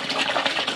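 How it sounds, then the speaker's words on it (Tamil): Large volume of water gushing from cans into a big biryani cooking pot, a steady broadband rush with slight surges, close and loud with no talk. "70 லிட்டர் தண்ணி ஊற்றணும்"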